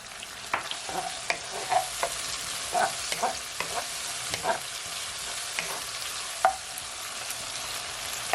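Ackee sautéing in a pan with all-purpose seasoning and black pepper for a Jamaican breakfast gives a steady soft sizzle, broken by intermittent scrapes and clicks of stirring, close and fairly quiet, with no talking.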